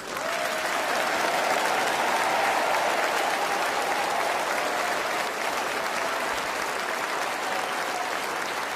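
Sustained, steady applause from a large crowd greets a newly installed archbishop at an installation service, loud and continuous for several seconds with no talking over it.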